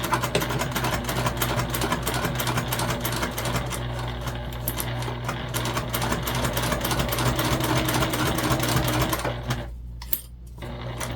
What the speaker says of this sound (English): then we're going to sew at the seam allowance in the pattern